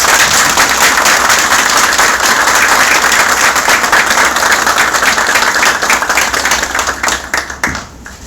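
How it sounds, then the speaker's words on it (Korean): Loud, sustained applause from an audience as a national police chief enters an inauguration ceremony, a thick wall of many hands clapping that holds steady, then thins and fades out near the end. "모두 큰 박수 부탁드립니다."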